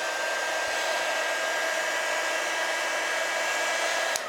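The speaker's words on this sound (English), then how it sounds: "I hit this with the heat." Heat gun blowing on poured resin in a standing ashtray mold, a steady close airy roar holding evenly for several seconds before cutting off near the end.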